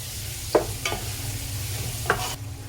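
Chopped onions, seven or eight of them, stirred in a pan for mutton biryani, with a low steady sizzle broken by a few distinct scraping stir strokes, close and alone.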